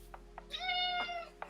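A pet cat named Luna meows in one long, drawn-out harmonic cry at close range, with a couple of faint clicks and taps around it in an otherwise quiet room.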